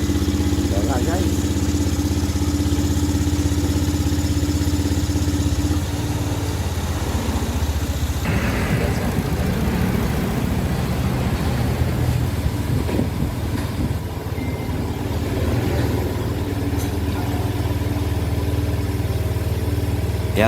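Motorcycle engine idling steadily after starter repair and throttle body cleaning, a low continuous hum with a shift partway through, someone talking over it.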